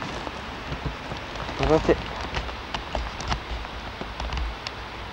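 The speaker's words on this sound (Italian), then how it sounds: "quanta pioggia che si sta creando" Heavy rain pours during a storm in Cinisello Balsamo, Italy: a dense, continuous hiss and patter with a few sharper splashes, while someone talks over it.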